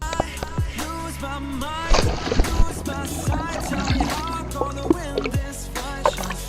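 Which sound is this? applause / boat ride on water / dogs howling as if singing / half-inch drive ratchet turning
boat ride on water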